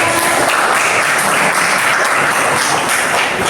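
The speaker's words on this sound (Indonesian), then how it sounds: "Tepuk tangan dong yang sudah jawab" A class bursts into loud, dense applause for students who answered during a biology lesson, steady clapping sustained throughout without talk.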